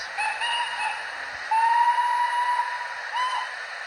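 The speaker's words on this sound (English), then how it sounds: "It has 3 whistles that play in sequence each time you press." Whistle from a Hornby TXS sound decoder in a model locomotive, three tonal blasts in sequence: a short one, a longer steady one, then a brief final toot, fairly loud and close.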